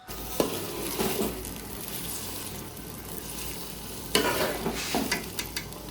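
Onions fry in a pan for a chicken dish, sizzling steadily up close while a utensil stirs and scrapes through them in a few louder bursts.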